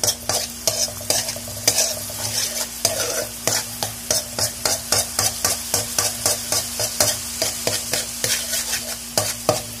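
Garlic browning in a pan is stirred in fast regular strokes, each scrape of the utensil sharp and close over a continuous sizzle, with no talking.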